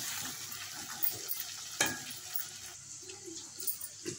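Spoon scraping and clinking against a pan while masala brinjal curry is transferred into a bowl, soft scattered knocks with one sharper clatter, quiet and close.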